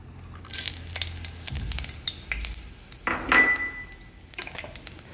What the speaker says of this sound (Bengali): এবার এই গরম তেলেতে ওই গোটা মশলাগুলো আমি দিয়ে নেবো